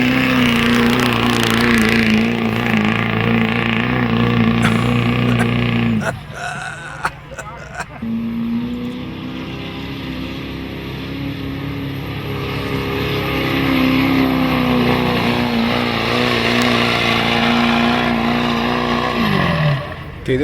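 A tractor at a tractor pull in Ilderton, Ontario roars loudly and steadily, its engine note climbing in pitch, cutting out briefly midway, then surging back and holding strong before dropping off at the end.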